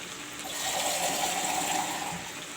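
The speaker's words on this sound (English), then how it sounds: "Now I will add some water." Water poured into a pan of cauliflower, potato, peas and chicken curry, a steady gushing splash that swells and holds for a couple of seconds, close and alone.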